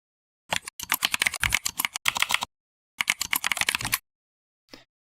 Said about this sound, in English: Your keyboard sound is so good.